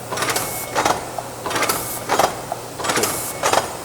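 A FeeNoT 145S sheet-fed paper lid cover machine runs in a steady mechanical cycle, with repeating bursts of clattering and hissing strokes at a regular rhythm, moderately close.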